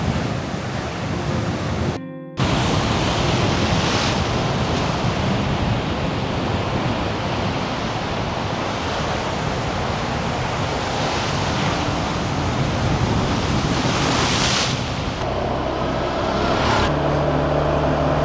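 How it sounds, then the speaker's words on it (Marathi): Sea waves roll in beside a coastal road between Ratnagiri and Ganpatipule during the monsoon, a continuous loud roar mixed with wind buffeting the microphone, broken by a brief dropout early on. "असल्या लाटा येतात बघा"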